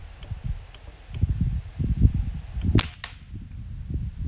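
Diana Stormrider air rifle firing a pellet at a backyard target: a single sharp crack near the middle, with a short ringing tail, over low rumbling background noise and handling sounds.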